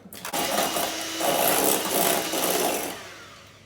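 Whisk beating a thick keto dalgona coffee mixture, a fast, close, continuous rhythmic scraping and whirring for a few seconds before tapering off.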